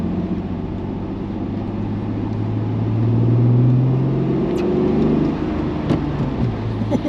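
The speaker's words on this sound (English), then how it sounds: "that's a great gear change" A Honda NSX engine rises in pitch, peaks mid-clip, then drops as a gear change comes through. The note is steady, close and moderately loud, with no talking.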